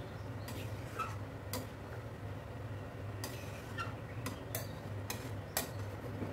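A spoon stirs jackfruit curry in a pot after hot water has been added, giving sparse, faint clinks and taps against the vessel over a low, quiet background.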